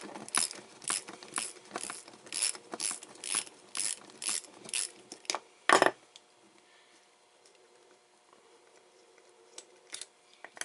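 Shifter bolts are loosened with a hand ratchet during a shifter bushing replacement: about a dozen quick bursts of close, crisp ratchet clicking, then a single metallic clunk and near silence.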